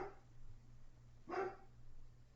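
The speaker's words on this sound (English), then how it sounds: "Someone has my dog going ape shit." An agitated dog barks at the door after the doorbell rings, a single sharp bark fairly close in a quiet room, set against a low steady hum.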